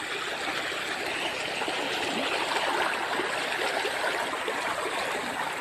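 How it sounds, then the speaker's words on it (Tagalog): Steady flowing stream water, a continuous close rushing and burbling with no voices. "Ganda ng agos ng tubig."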